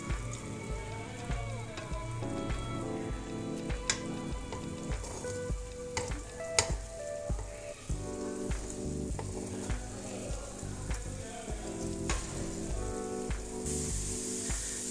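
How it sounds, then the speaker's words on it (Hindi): Three medium onions in a cup of oil fry steadily toward golden brown, a dense, constant sizzle with occasional stirring scrapes and clinks, fairly close and uninterrupted by talk. "इनको मैंने 1 कप ऑयल में फ्राई कर रही हूँ।"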